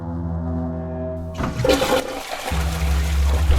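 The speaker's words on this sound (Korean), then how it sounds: "방금 물소리 들었어요." A public restroom toilet flushes with a loud rushing gush of water, preceded by a steady low hum, then swirling water refilling close by.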